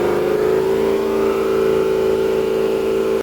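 LS-swapped Chevy C10 square-body truck engine held at a raised, steady rev, loud and close with a sustained droning hum that cuts off abruptly at the end.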